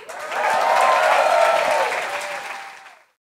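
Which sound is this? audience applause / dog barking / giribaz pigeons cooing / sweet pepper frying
audience applause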